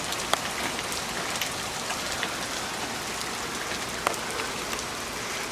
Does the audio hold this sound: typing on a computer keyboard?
no